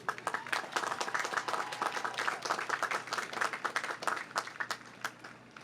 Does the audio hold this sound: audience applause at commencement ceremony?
yes